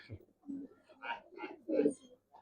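Silver giribaz pigeons cooing in a few short, soft, throaty bursts close by, separated by brief pauses, in a quiet space.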